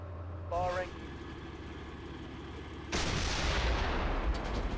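A tank main gun fires in the Steel Beasts military simulator, a sudden heavy boom that rolls into a long rumbling decay over a low idling engine drone, with a brief voice heard before the shot.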